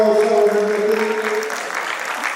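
An audience claps loudly for poets at a poetry gathering, a dense steady round of applause that fades slightly toward the end. A brief tonal sound rings through it at the start.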